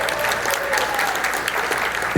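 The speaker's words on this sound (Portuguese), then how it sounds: "Uma salva de palmas para ele" Applause from a church congregation during a sermon, steady and fairly loud for about two seconds, with a faint murmur of voices underneath.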